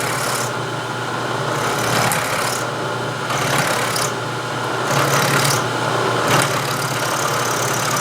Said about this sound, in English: so plunge cutting is the way to go